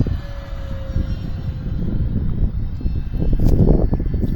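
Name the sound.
E-flite F4U Corsair RC airplane flying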